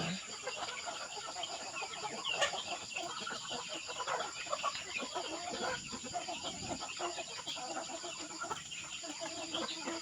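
Chickens cluck softly and intermittently outdoors, a low farmyard murmur of several birds scattered over a faint background hiss.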